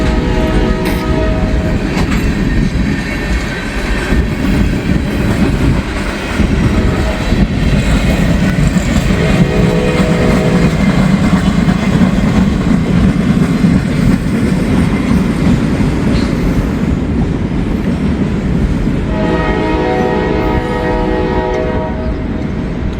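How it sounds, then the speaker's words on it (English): Freight train of center beam flat cars loaded with lumber, trailed by a caboose, rumbling loudly and steadily past up close with rhythmic wheel clatter and a horn sounding early and again near the end. "It's got a lot of center beam flat cars dropping off a lot of lumber."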